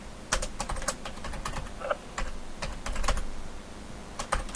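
Rapid clicking and typing on a computer keyboard during a Windows tech-support scam call, a run of sharp, irregular keystrokes close by with no talk over them.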